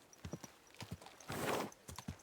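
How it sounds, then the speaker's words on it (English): Horse hooves clip-clop in an uneven walking rhythm in Kingdom Come Deliverance 2, close and fairly quiet, with a brief breathy snort or whinny from the heavily loaded horse in the middle. "Easy, good horse."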